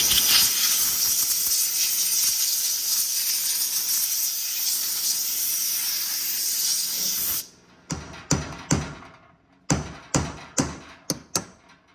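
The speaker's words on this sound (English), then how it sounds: "We're gonna blow this off with air compressor so we don't get any trash in the tank" An air compressor blows off the fuel sending unit on a 2010–2024 6.7 Cummins truck. A loud steady hiss runs for about seven seconds, then five or six short sharp bursts of air follow.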